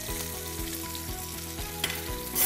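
Sea bass fillets fry in a hot pan with a steady crackling sizzle, heard close and continuous on its own, with a sharper pop near the end.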